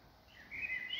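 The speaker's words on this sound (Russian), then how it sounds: "Птички поют." Birds in a forest in Zakarpattia give a faint, thin whistled call that rises slightly toward the end, heard alone over quiet woodland background.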